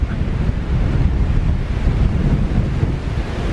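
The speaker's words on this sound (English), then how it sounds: "Now the wind's definitely getting up." Strong wind blows outdoors beside a parked bike, buffeting the microphone with a loud, constant low roar and rushing noise that stays steady for the few seconds and has no talking over it.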